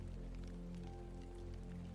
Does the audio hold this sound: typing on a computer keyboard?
no